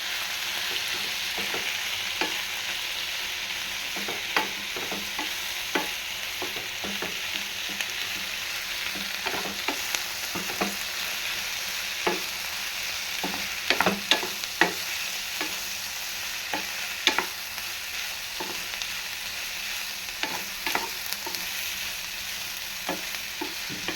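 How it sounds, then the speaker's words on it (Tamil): Ingredients for a cauliflower gravy sauté in a pan, with a steady soft sizzle throughout and frequent scraping clicks of a spoon stirring, no talk. "இதையும் சேர்த்து நல்லா வதக்கி விட்டுக்கோங்க."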